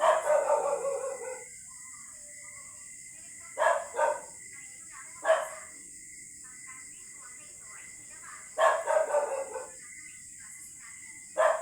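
Dog barking indoors, a few short bursts of barks spaced out over several seconds, fairly close and moderately loud, with quiet gaps between them and a steady high hiss in the background.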